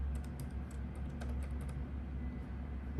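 Rapid keystrokes on a computer keyboard as a password is typed and confirmed for an online portal registration, a steady run of light clicks over a low background hum.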